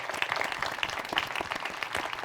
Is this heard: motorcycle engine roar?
no